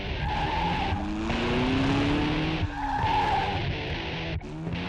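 A stolen police car tears off on a UK road, its tires skidding and squealing under a loud, continuous engine roar with rising pitch, heard close up from the cruiser itself.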